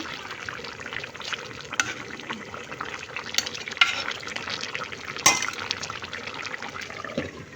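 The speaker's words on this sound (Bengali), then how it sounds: "এই তো লাউ দিয়ে হচ্ছে ইলিশ মাছ রান্না" Hilsa fish cooking with bottle gourd in a pan, a steady close sizzle with scattered stirring scrapes and a few sharp utensil clinks, no voices.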